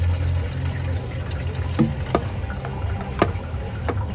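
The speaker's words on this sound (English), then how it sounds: "See, we got some coolant coming out" Coolant trickling and dripping from a Freightliner engine's thermostat housing after the block was drained, a close, uneven liquid dribble with scattered sharp drip splashes and faint metallic knocks, no talking.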